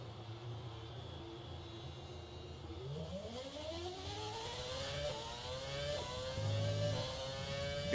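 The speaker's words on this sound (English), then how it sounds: "The classic cars also sound nice because I believe this was still a V8." In the F1 2020 racing game, a classic V8 Formula 1 car's engine revs up, its pitch climbing in rising sweeps with layered harmonic whine, steady and moderately loud without talk.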